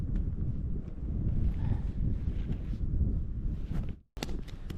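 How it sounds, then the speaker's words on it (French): Steady wind gusting across a cold lakeside camp, a loud continuous rumbling roar of wind on the microphone with a brief dropout near the end, no talking. "Si le vent pourrait arrêter"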